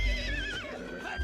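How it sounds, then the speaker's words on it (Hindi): A mare whinnies in agitation over her foal, a high wavering neigh sliding downward, loud and close, with low thuds beneath and no talk. "देखा तो घोड़ी अपने बच्चे के लिए तिलमिला रही थी।"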